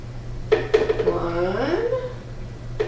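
A small jar of Dijon mustard is pried open: a few sharp lid clicks and clinks come close up, while a voice makes a drawn-out strained sound in the middle.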